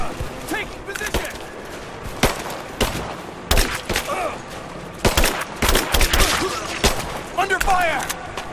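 Rapid gunfire crackles through a firefight in the Rise of the Tomb Raider game. Sharp shots and bursts arrive in irregular clusters, mixed with shouted voices and scattered impacts.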